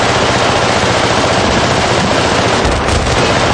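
Sustained automatic machine gun fire in Battlefield: Bad Company, a loud dense unbroken rattle of rapid shots close by with no pauses or voices.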